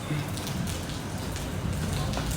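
Rain falls steadily outdoors at a house, a dense continuous patter that holds at an even level for the whole stretch with no speech over it.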